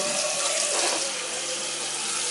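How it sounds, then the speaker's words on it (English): A kitchen tap runs into a cooking pot, a steady, close rush of water filling the vessel with no talking. "I'm gonna fill this bad boy up with some water."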